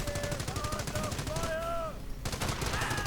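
Rapid machine-gun bursts fire in a World War II strategy video game, rhythmic rattling shots running throughout while a voice speaks over the battle.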